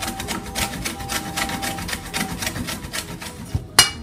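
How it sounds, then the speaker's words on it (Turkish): Celery root is grated by hand, a steady rhythmic rasping with even strokes close by, ending in a sharp knock. "Kerevizi rendeliyoruz."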